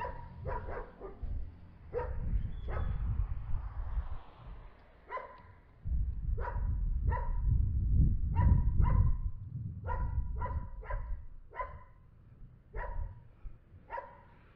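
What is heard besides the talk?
dogs barking in a neighborhood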